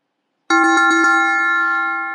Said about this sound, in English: there will be a gong sound.